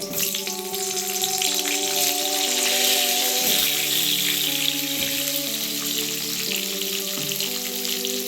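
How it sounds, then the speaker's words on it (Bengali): Potatoes fry in hot oil for a cauliflower and potato vegetarian dish, a loud, dense bubbling sizzle holding steady throughout, heard close with steady tonal hum beneath and no speech. "তেলের মধ্যেই আলুগুলো ভেজে নেব লাল লাল করে"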